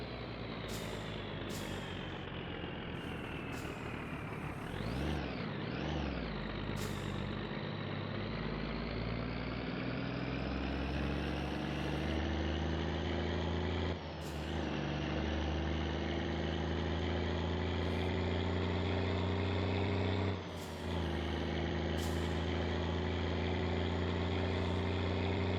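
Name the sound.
car engine running in video game My Summer Car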